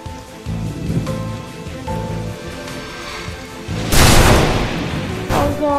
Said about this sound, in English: We should have flown around the storm.